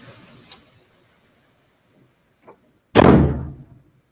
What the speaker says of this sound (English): that was the front door